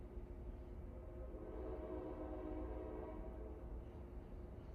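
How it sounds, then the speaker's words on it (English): A long, steady train horn sounds as a train passes nearby, holding one continuous tone over a low rumble of rolling cars for the whole stretch, with no talk. "He's got 2 more horns. This last one's going to be very long and annoying."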